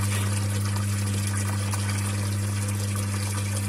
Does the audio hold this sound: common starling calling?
no